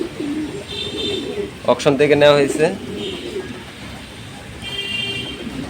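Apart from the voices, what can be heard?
pigeon cooing in a racing pigeon loft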